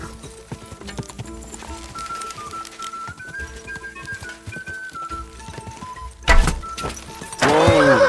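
Horse hooves clip-clop in steady rhythm in the medieval video game Kingdom Come Deliverance 2, loud and close under game music, followed by a whinny and a sudden rush of noise near the end.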